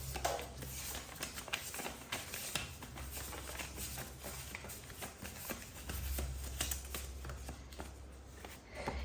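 Tarot cards shuffle steadily in a soft, continuous papery riffle close by, with a faint low hum underneath and no talking.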